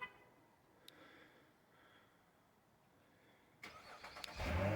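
A Nissan car engine started by remote start: quiet surroundings with faint clicks, then near the end a short crank and the engine catching at moderate volume.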